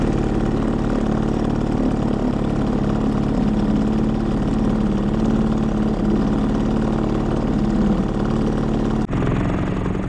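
A Sea-Pro T2.6S outboard motor running steadily during break-in on an Aqua Master 280 boat, a loud, close, even buzzing drone with a slight change in tone near the end, no voices.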